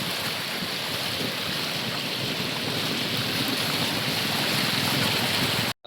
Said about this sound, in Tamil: இங்கே பார்த்தால் தெரியும், தண்ணி சரியான வேகமாக அடித்து கொண்டு பாயுது